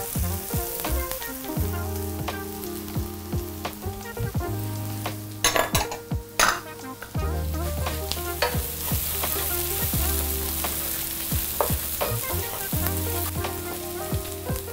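Shallots and garlic sizzle and fry steadily in a pan with a salmon and chanterelle mushroom dish, close and continuous, with occasional stirring scrapes and clinks of a utensil against the pan.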